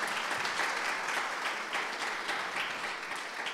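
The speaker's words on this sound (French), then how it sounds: "on peut applaudir d'ailleurs tous nos intervenants" Audience applause fills a round-table panel at a 2013 leadership forum, a steady, dense patter of many hands clapping for the speakers, sustained at even loudness with no voices over it.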